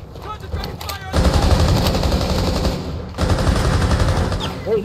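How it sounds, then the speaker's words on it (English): Loud, rapid bursts of automatic gunfire in the tactical shooter game Rainbow Six Siege come in two sustained volleys separated by a brief pause, with a few lighter shots before them. "Where is that gunfire coming from?"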